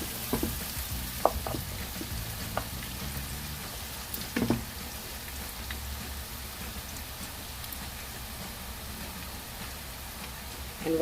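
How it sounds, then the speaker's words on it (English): Onions stir-frying in a pan for masoor kheema pulao with red lentils and minced mutton, a continuous close sizzle with scattered crackles and occasional stirring knocks, steady throughout with no talking. "Right now I want the onions to stir fry here."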